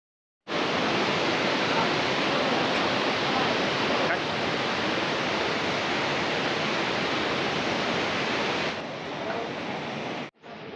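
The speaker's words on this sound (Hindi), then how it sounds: "यह है सरस्वती नदी, जिसको दूध गंगा के नाम से भी जाना जाता है।" The Saraswati river, also called Doodh Ganga, at Kalimath rushes in a loud, steady roar of flowing water that fills the whole clip and cuts briefly near the end.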